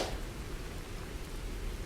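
Steady, soft rainfall hisses as an even broadband wash, faint and continuous with no other sounds over it.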